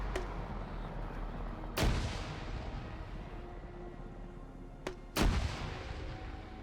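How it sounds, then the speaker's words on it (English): Grenade launcher rounds firing in the Arma 3 video game, a few sharp thumping reports spaced several seconds apart, two of them close together near the end, over a constant low battlefield rumble. "Grenadier rounds going, and I think they're firing at that Vic."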